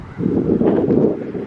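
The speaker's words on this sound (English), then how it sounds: "I apologize for the wind. It is super windy today." Low, rumbling wind buffets the microphone in a steady blustery roar at the Georgia State Railroad Museum in Savannah, loud and close, with no other sounds standing out.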